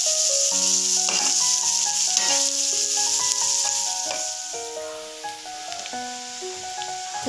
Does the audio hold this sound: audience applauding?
no